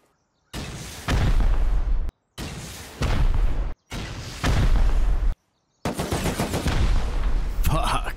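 Gunfire and high-velocity rocket fire against turrets during a raid on a base in the survival video game Rust: four loud, dense bursts of shooting and blasts, broken by short silences.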